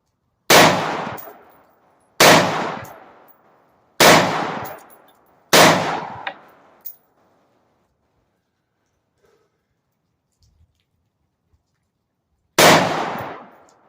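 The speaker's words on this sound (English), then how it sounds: "I don't want to stop shooting" Five loud gunshots at a casual Sunday shooting session, four spaced about a second and a half apart, then a long quiet stretch before a final shot, each with a sharp crack and a short decaying echo.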